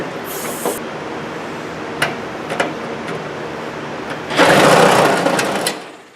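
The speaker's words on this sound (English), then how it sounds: "I'm just going to cut the rest of this with the die grinder" Die grinder cutting through metal on a project build: steady broadband grinding whine running throughout, with sharp clicks and ticks, rising to a louder, harsher burst of cutting near the end before cutting off.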